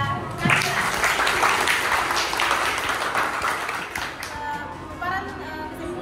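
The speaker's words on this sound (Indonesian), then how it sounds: "beri dulu aplaus" Classroom applause at a Makassar senior high school after a student's presentation on digestive system conclusions, a dense steady patter of clapping from many hands lasting several seconds, with some voices mixed in.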